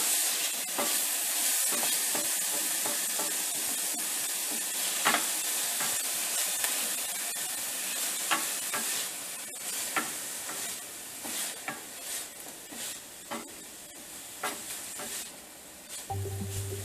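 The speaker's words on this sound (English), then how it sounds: "we're going to cook these onions down until they're translucent, which only takes a couple of minutes, but you want to keep stirring it around" Onions sizzling in a pan as they cook down, kept moving with steady stirring, a continuous close hiss broken by frequent scraping and clicking strokes.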